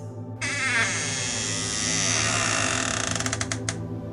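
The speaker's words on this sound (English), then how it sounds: "Let me open the door for you." A door opening as a sound effect: a loud, sustained mechanical creaking and ratcheting grind that ends in a few quick clicks, with no talk.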